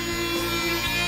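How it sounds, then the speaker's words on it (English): A Fein MultiMaster oscillating tool sanding gives a brief, steady, close buzzing drone with a dense harmonic whine and no pauses. "hard to reach sanding places because the oscillating action on the MultiMaster is so"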